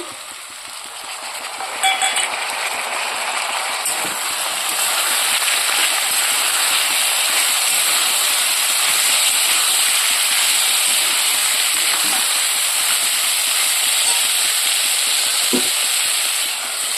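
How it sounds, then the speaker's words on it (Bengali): Chickpeas tipped into onions frying in a pan, a loud continuous hiss and sizzle that steadies after a brief clatter near the start. "পেঁয়াজগুলো অনেকটা ভাজা হয়ে গেছে তো এর মধ্যে আমি এবারে এই যে ছোলাগুলো দিয়ে দিচ্ছি"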